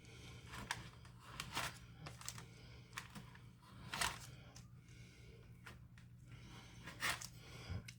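A sharp knife chops a baked potato knish into little pieces, giving quiet irregular clicks and taps on a board, some quick in clusters, at low level with no talk.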